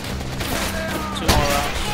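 Dense, loud gunfire and explosions in the World War II shooter Call of Duty: World at War, with a sharp burst near the middle of a short clip.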